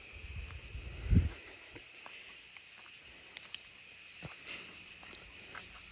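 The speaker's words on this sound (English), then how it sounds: "You can hear the tree frogs well from right here." Tree frogs call at night as a faint, steady high-pitched chorus from the surrounding trees, with a soft thump and scattered small noises nearby.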